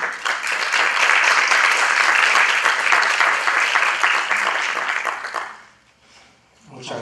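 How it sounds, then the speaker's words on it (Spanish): An audience claps loudly and steadily for several seconds to welcome a lecturer at a law talk on Peruvian criminal cassation, the dense applause then fading out quickly. "daremos la bienvenida con unas fuertes palmas a nuestro profesor y docente"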